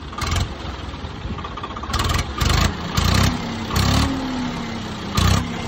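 A Mahindra 575 tractor fitted with a Swaraj 855 silencer idles loudly up close, punctuated by repeated short throttle blips that rise and fall in pitch, about five revs in a row.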